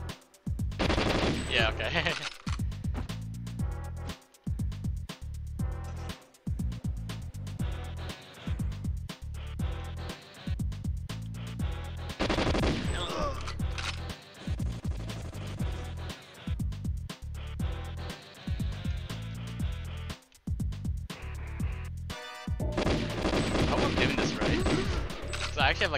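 Dense gunfire in the GoldenEye 007 remaster, with rapid machine-gun bursts and repeated shots nearly continuous throughout and brief pauses between volleys, loud and up front with a short voice remark.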